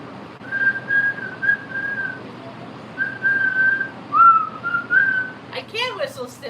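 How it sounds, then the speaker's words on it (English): A person whistles a tune in a series of clear melodic phrases with short pauses between them, fairly close, and a brief voice comes in right at the end. "I can whistle still."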